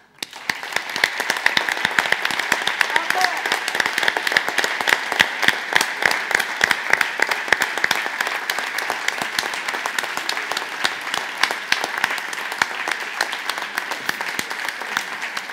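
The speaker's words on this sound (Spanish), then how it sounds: "Y pido otro aplauso muy fuerte" An audience at a poetry recital and stage show claps loudly and steadily, a dense, sustained burst of applause that starts abruptly and continues without pause.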